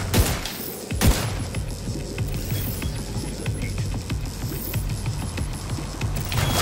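Gunfire in the video game The Division 2 during an end-game mission, with bursts of shots and booming impacts, the sharpest blasts near the start, over a constant busy game backdrop.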